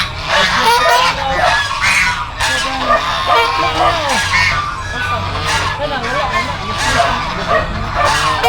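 Mixed farm fowl call together at close range, with goose-like honks and clucking from chickens, ducks, turkeys and guinea fowl forming a loud, continuous, overlapping chorus.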